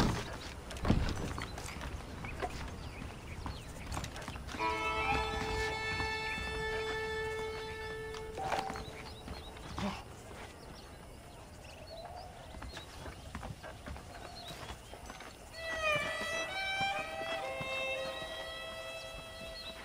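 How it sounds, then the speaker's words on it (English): Horses from Red Dead Redemption clip-clop in a steady, moderately close walking rhythm beneath ambient game music with sustained tones, with no voices speaking over them. "The horses are saddled up over here."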